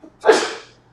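A single loud, close human sneeze bursts out after a short intake of breath, then trails off quickly into quiet.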